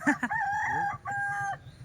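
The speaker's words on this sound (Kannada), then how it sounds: "ಕೋಳಿ ತಗೊಂಡ್ರು" A rooster crows close by, a single loud drawn-out call with a short break in the middle.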